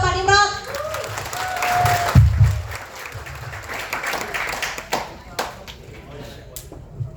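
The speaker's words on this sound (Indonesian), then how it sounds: "Tepuk tangan buat Pak Nimrod" Audience applause welcomes a speaker at a corporate leadership training session, loud broadband clapping rising at the start and fading after a few seconds, with voices talking over it.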